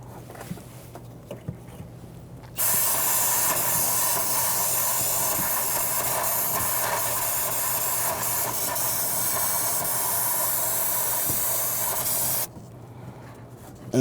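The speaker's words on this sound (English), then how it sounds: "we want to spray that and clean that as much as possible using a spray solvent" An aerosol solvent cleaner hisses in one continuous spray of about ten seconds onto a leaking power steering pressure hose of a 2007-2014 Cadillac Escalade 6.2L V8. Quiet shop ambience comes before and after.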